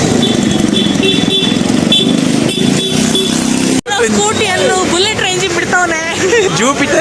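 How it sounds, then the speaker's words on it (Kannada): A Jupiter scooter fitted with an RX-100 engine runs with a loud, droning motor at a Chor Bazaar street market in Bangalore, then cuts to busy crowd chatter and voices. "ಜೂಪಿಟರಿಗೆ RX-100 ಇದ್ದು ಇಂಜಿನ್ ಹಾಕಿದ್ದಾರೆ. ಅದಕ್ಕೆ ಭಯಂಕರ ಡ್ರ ಶಬ್ದ ಬರ್ತಾ ಉಂಟು."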